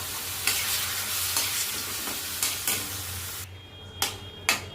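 Milk is stirred into sheera frying in a pan, making a steady close scraping and swishing of a spoon against the pan over a constant sizzle, with a few sharper knocks near the end.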